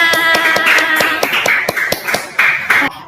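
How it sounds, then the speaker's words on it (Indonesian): A fifth-grade class claps hands together in a patterned rhythm, sharp near claps falling in quick bursts with a bright ringing tone behind them, ending on a few final claps. "Tepuk tangan untuk kita semua"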